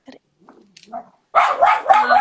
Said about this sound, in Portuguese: Assim que meu cachorro parar de latir.